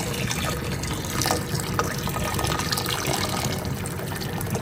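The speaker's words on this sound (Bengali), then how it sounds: "পানি দিয়ে দিই, গরম পানি করে রাখছিলাম।" Hot water is poured into a pot of pulao being cooked, a steady continuous splashing gush that runs the whole time with no talking.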